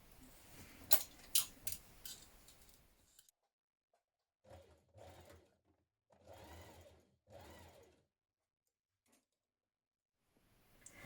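A domestic sewing machine stitches a seam with a 1.5 cm allowance on a jersey-style dress: a loud rattling run at first, then several short whirring bursts of stitching separated by quiet pauses, close and with no voices.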